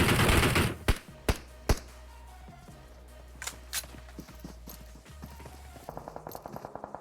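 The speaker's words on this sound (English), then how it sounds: "Lots of gunfire being traded right now" Gunfire in the PUBG Mobile video game: a few loud, sharp shots near the start, scattered quieter reports in the middle, then a rapid burst of automatic fire at the end, over a low game hum.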